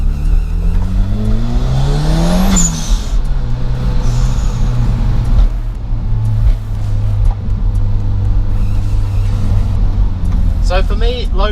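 A Lotus Esprit Turbo SE engine revs and climbs in pitch as it accelerates, loud and close, then settles into a steady drone with a voice speaking near the end.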